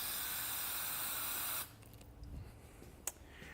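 A spray can of adhesive hisses in one steady burst for over a second while an acrylic panel frame is being built, then cuts off, leaving faint handling noises and a small knock.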